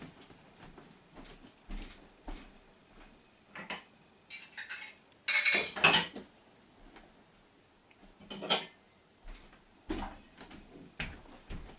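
Plates and cutlery clatter in a home kitchen as fried ide fish is served onto another plate, with several short bursts of clinking scattered through the quiet and one louder cluster midway.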